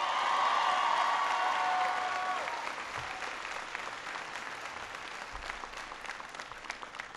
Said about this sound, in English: I want everybody to give George a big round of applause for that introduction.